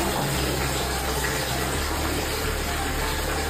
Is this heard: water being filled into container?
yes